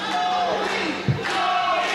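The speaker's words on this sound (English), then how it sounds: "The crowd showing their support." A wrestling crowd cheers in support of a wrestler sent back over the barricade, a steady roar of many voices filling the arena throughout, with one brief louder burst near the middle.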